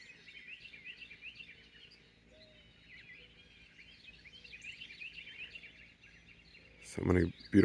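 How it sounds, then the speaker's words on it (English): Birds sing and chirp at sunrise in a calm natural setting, a steady layer of high, quick twittering calls at moderate distance, ending with a brief louder close-up disturbance. "So many beautiful different kinds of birds and nature sounds this morning."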